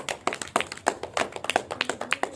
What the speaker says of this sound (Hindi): सभी के लिए तालियां, और जो हमारे गेस्ट आए हैं उनके लिए भी एक बार जोरदार तालियां